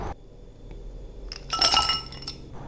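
Ice cubes drop into a glass of mango squash with bright clinks and rattles, a short cluster of tinkling knocks close by, then settling; no talking.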